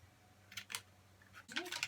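Scissors snip through paper while cutting out a heart shape for a Dollar Tree Valentine's craft, a few short crisp cuts close by with faint background noise.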